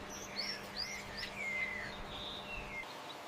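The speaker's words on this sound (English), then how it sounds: "Its first cry for food is the beginning of a relentless demand." A newly hatched common cuckoo chick in a host bird's nest gives thin, high begging chirps for food, a string of short rising and falling peeps repeating irregularly over faint background hiss.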